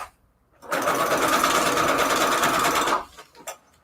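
A sewing machine runs a steady zigzag stitch through paper embellishments for a junk journal, a close, loud buzzing burst of about two seconds, followed by a few faint handling clicks.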